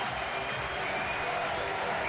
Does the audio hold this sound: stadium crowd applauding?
yes